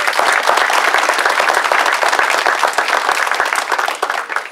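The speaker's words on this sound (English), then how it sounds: "let's give them a round of applause" Loud, close applause from an awards dinner audience honoring students, a dense crackle of many individual claps that stays strong throughout before easing slightly at the end.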